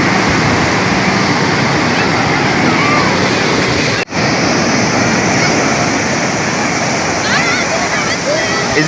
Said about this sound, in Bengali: এই যে ঢেউ না